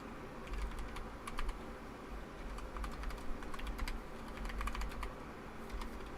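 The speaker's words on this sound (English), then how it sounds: "it is just worth typing all this out real quick" Rapid typing on a computer keyboard, a close run of crisp key clicks in uneven bursts over faint background hum, with no voices.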